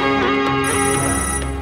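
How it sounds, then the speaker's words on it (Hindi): A telephone rings in a Hindi political action film scene, a steady electronic ringtone with sustained tones filling the short moment at constant loudness. "दीनानाथ का फोन है"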